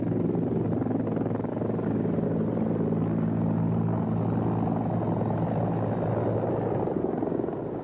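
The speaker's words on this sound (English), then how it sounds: "I just felt tremendously relieved when that chopper took off and was rushing him to the hospital." A rescue helicopter lifts off to fly an injured man to the hospital, its loud rotor rumble and turbine whine steady and close throughout, with no talk.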